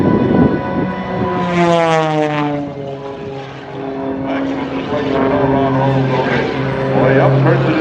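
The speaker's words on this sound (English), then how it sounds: "accelerating the airplane well over 250 miles an hour" A propeller aerobatic airplane, an MX-2, roars overhead at an air show above 250 mph, its engine pitch sweeping down and then up as it maneuvers, loud and close, with a voice talking over it.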